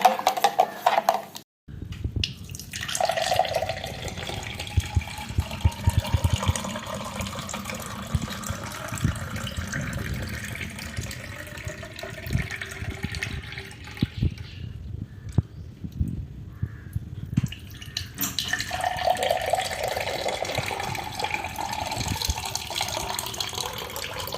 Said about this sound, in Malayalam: നമുക്ക് ജ്യൂസ് തയ്യാറാക്കി എടുത്തതിന് ശേഷം കുറച്ച് വെള്ളവും കൂടെ ഒഴിച്ചു കൊടുക്കാം